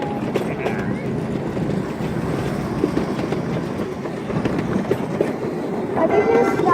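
A downtown train rolls past at close range as a steady, dense rumble with faint clickety-clack, holding level throughout and swelling slightly toward the end amid light wind buffeting.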